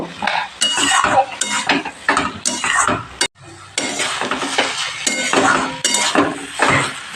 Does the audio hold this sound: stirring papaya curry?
yes